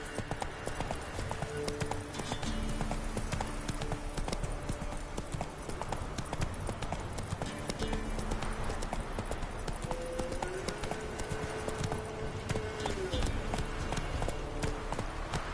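Hooves of Roach, Geralt's horse in The Witcher 3 video game, clip-clop in a steady trotting rhythm throughout, close and continuous beneath a bed of game music.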